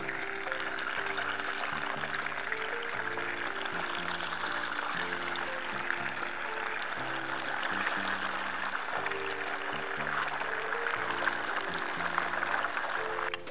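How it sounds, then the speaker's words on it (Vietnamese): Tofu pieces with seaweed sizzle steadily in hot oil, a dense, continuous crackling hiss at moderate volume with faint low background music underneath. "Các bạn sẽ chiên cho đậu hũ nó vàng."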